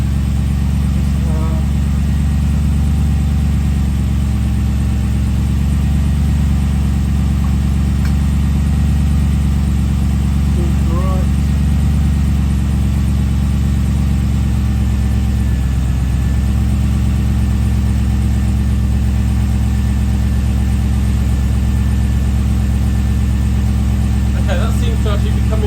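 An AK Cobra kit car engine idles on its very first start, with exhaust leaking and freshly paint-coated headers baking off. A steady, low rumbling idle runs throughout while people talk over it.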